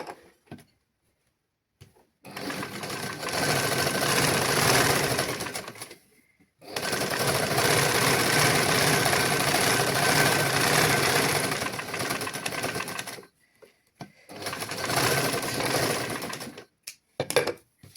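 A sewing machine stitches cloth for a pillow cover in three long, loud runs of rapid mechanical whirring and clatter, separated by brief pauses and a few small knocks, with no talking.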